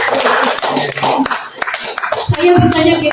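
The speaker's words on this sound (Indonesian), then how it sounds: "tepuk tangan untuk Bapak Ibu guru semua" A group at a school gathering claps for the teachers, a dense burst of close applause and taps with voices mixed in throughout.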